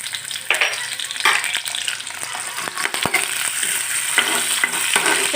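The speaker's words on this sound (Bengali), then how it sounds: "এখন আমি দিয়ে দিব পেঁয়াজ" Chopped onion frying in hot oil in a wok for a cauliflower and potato curry, a steady loud sizzle with crackling pops and occasional stirring scrapes, close and continuous with no talking.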